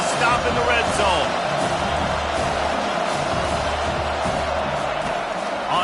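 A football stadium crowd roars and cheers for the defense in a red-zone stand during a Washington vs Miami game, a broad sustained din under an announcer's talk.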